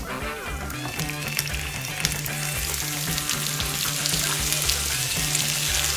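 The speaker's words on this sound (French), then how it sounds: "Trifon, j'ai mis l'ail en train de revenir" Garlic and fresh spinach leaves sauté in a pan for pesto pasta, giving a steady, loud sizzle with crackling pops and occasional stirring scrapes close by.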